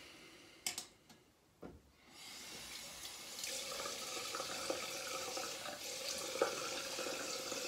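Tap water runs steadily into a sink for a rinse after a shave with a Joseph Haywood razor, a continuous close hiss that follows a few brief knocks and a short pause.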